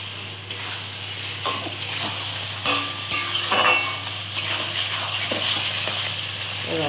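Sweet spice paste with melting tomato frying in oil for a bhetki fish and cauliflower curry, loud close sizzling under repeated spatula scrapes and clinks against the pot, with a constant low hum behind.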